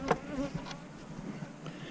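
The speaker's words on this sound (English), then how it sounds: "These bees are coming through this excluder down here." Honey bees buzz steadily at a hive fitted with a queen excluder, a dense, continuous drone of many insects close by, with no talking.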